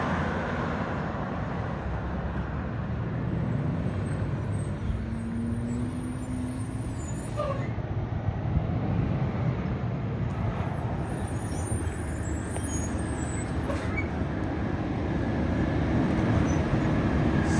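Interior of a city bus in Rialto, a steady engine rumble and road noise continuing throughout with a brief hiss of air brakes, fairly loud and close, no talking.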